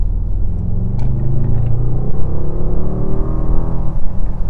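A 2024 Mercedes AMG GLE 63S V8 engine rumbling on a rainy day, loud and close with a deep, throbbing low growl that swells and pulses unevenly as the revs rise slightly.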